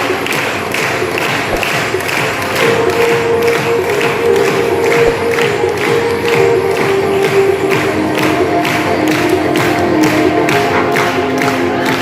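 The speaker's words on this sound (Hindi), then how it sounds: "जोरदार तालियों से स्वागत कीजिए हमारे तीनों चीफ गेस्ट का" Audience applause and cheering welcoming three chief guests at a school toy-exhibition inauguration, a steady loud wash of clapping from a large crowd that holds for the whole stretch, with a sustained tone running under it.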